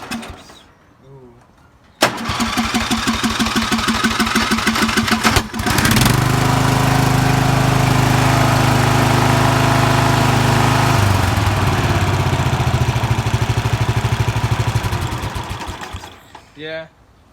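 A Murray lawn mower engine in worn condition, needing rings and valves, cold-starts with a brief pull, then fires and runs loudly and steadily close up, changing pitch partway through before shutting off, with a voice briefly at either end.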